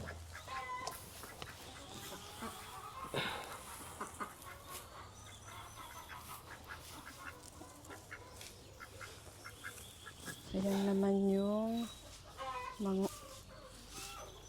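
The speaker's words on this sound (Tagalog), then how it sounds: "Ayan naman yung mga manok natin." Farm chickens and ducks in San Diego, scattered clucks and quacks near and far, with a louder burst of honking calls late on, and a person talking quietly at times.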